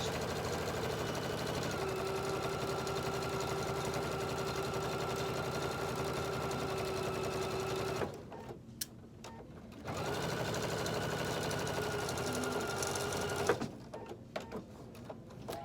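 A sewing machine stitches along the bottom edge of a color-blocked cork handbag, running in a steady, even whir for several seconds, pausing briefly, then starting up again close by.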